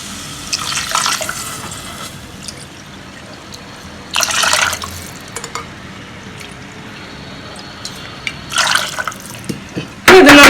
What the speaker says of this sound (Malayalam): ഇതിലേക്ക് നമുക്ക് ഒരു 2 കപ്പ് തൊട്ട് 3 കപ്പ് വരെ വെള്ളം ഒഴിച്ചു കൊടുക്കാം.